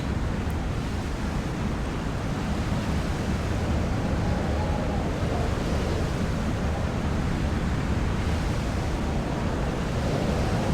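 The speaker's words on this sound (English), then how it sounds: "Look at these waves, man." Big ocean waves in the West Fjord in the submarine game Silent Hunter 5, a steady, loud broadband roar of surf and wind sweeping on without pause, with no talk over it.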